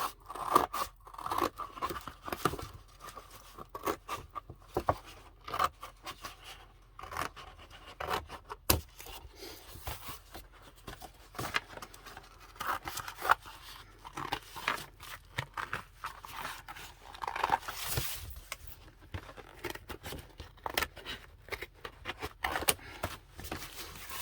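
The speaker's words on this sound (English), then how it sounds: "So I'm just going to cut this. So you have to cut the sides." Scissors cutting the sides of a plastic package for a homemade junk journal, a steady run of soft crunchy snips and rustling close by, fairly quiet, with no voices.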